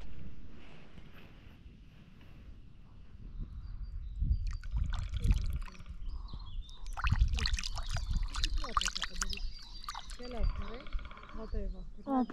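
A forest stream trickles and splashes as hands are washed in it during a cycling trip through woodland, the water close and moderately loud with talking over it.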